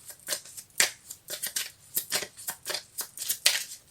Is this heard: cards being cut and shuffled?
yes